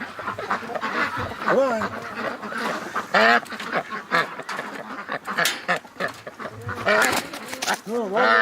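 Ducks quack repeatedly and loudly close by, nasal honking calls coming in irregular bursts, while a person talks and calls to them over the flock.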